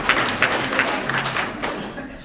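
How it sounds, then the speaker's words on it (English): Audience applause at a 2017 public meeting in Alpine, Texas: a short spell of scattered claps at moderate volume, thinning toward the end, with a faint background murmur. "Now, yes, you can clap for that."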